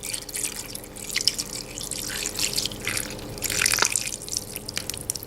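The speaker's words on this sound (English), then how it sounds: "I'm going to speed up this process by actually opening up the bottle and not squeezing anymore, but just pouring it" Liquid poured from an opened bottle, splashing and trickling up close in uneven bursts, with a louder splashing surge near the end.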